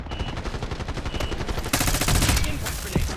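Gunfire in Call of Duty Black Ops during a Christmas snowball match: a rapid automatic burst of loud shots in a fast, regular rhythm, with denser firing toward the end, and no talking.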